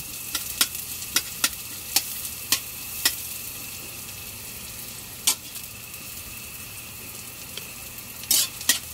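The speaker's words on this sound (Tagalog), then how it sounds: "Igisa natin yun mga kasisilads" Oil sizzles steadily as garlic and onion sauté in a pan while a utensil clicks sharply against it, several quick taps early on and a few more near the end.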